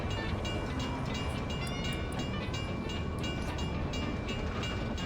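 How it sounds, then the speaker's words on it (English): A railroad crossing gate in the Mafia video game rings steadily under a continuous rumbling train-like background, with a repetitive metallic chime pulsing throughout at a moderate, somewhat distant level. "You hear the train gate? Do ya? I always hear the train gate."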